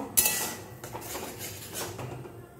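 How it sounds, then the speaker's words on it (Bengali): A spoon scraping and clinking against a metal pan while stirring mustard paste for a taro curry, short close knocks and scrapes at an uneven pace. "আর সর্ষেটা তো বেশি কষাতে নেই, সেই জন্য জাস্ট একটুখানি নাড়িয়ে নেব"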